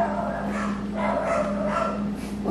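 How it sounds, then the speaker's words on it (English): Dogs bark outdoors in the distance during a cosmetology haircut session, the repeated barks faint and partly masked beneath a steady tonal hum and room noise. "How wonderful our dogs are barking out there."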